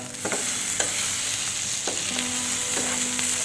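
Chicken pieces frying in a pan for a lemon chicken dish give a loud, continuous close sizzle with occasional soft crackles and spatters, with no voices.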